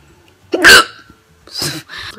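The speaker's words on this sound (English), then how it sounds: "I've got bad hiccups, guys, and it's not going away" Loud, sharp hiccups from a person, two distinct bursts about a second apart followed by a smaller third catch, close to the microphone in a quiet room.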